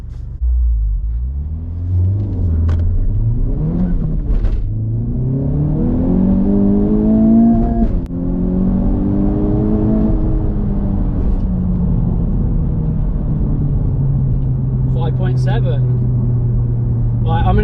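A facelifted Honda Civic Type R FK8 accelerates hard on a 0-60 run, its engine revving up loud and close through rising pitch sweeps and gear changes, with a voice in the cabin toward the end.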